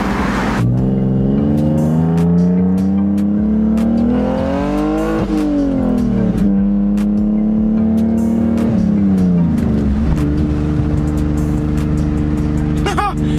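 A powerful BMW E46 car engine revs up and down repeatedly, its pitch climbing and falling in loud, close surges with no pauses.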